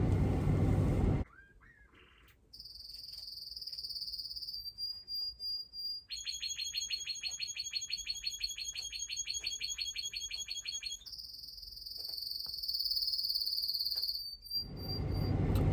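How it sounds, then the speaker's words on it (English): A large flock of small birds kept indoors in a room chirps and trills in rapid, repeated bursts, bright and continuous, with a louder muffled noise at the start and end. "it sounds like there's 30 of these birds in her room"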